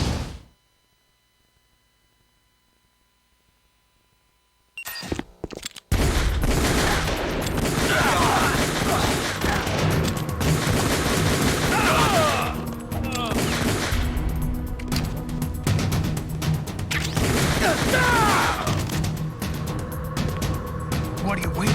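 Heavy gunfire in Metal Gear Solid: The Twin Snakes, loud sustained bursts after a few seconds of near silence, with a vehicle rumbling underneath and characters shouting over the shots.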